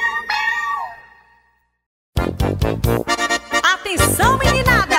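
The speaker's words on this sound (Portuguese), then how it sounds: "Dona Chica admirou Cecê, do berro que o gato deu." A single drawn-out cat meow sounds alone, then after a short pause a lively forró children's circle song with a band starts up loudly.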